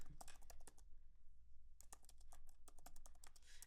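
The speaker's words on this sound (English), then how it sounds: "The aggressive sound of tapping on my keyboard right now is actually fucking unreal." Rapid, loud keystrokes clatter on a computer keyboard at close range, in bursts with a brief pause near the middle.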